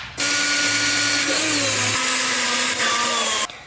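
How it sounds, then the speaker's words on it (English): A power drill with a larger bit enlarges two pilot holes for the diffuser bolts on an S2000 bumper install, running loud and steady for about three seconds with a slight pitch dip partway as the bit bites, then stopping abruptly. "Here's the bigger bit size where I drilled the 2 pilot holes, and I'm gonna go ahead and make them a little bit bigger."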